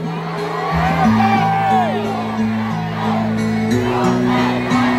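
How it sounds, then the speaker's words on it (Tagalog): Davaoenos at a pro-Duterte rally cheer, whoop and shout together in a steady, loud crowd roar over sustained musical tones. "Ang sigaw ng mga Davaoenos ay..."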